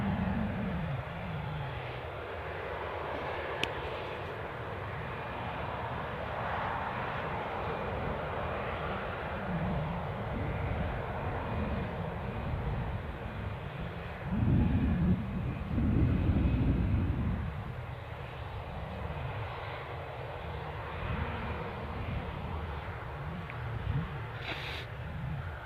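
A passenger plane on the Dublin flight at Newcastle airport, its engine roar steady and moderately distant throughout, swelling louder for a few seconds midway before settling back.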